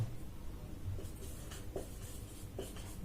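A pen writing on paper, soft close scratching strokes with a few light taps, quiet and alone.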